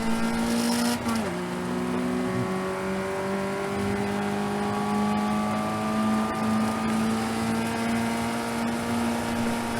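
Race cars scream past on the Donington Park circuit, a loud engine note dropping in pitch as one car passes close, then several engines droning and shifting at mid distance throughout.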